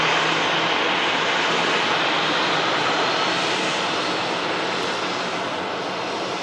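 A 12-year-old Singapore Airlines airliner at Manchester Airport produces a steady, even jet roar that holds at a constant level throughout, heard from a distance with no other sounds.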